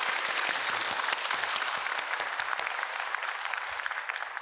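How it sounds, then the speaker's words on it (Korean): Studio audience of about 300 panel members applauding during a live KBS broadcast town hall with the Korean president, steady dense clapping throughout with no talk. "오늘 국민 여러분의 박수 한번 보내드릴까요?"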